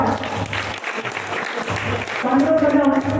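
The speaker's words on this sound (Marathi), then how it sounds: "बंडू अण्णांसाठी बरोबर टाळ्या" Audience at a felicitation ceremony claps in sustained applause, with a voice speaking over the clapping near the microphone.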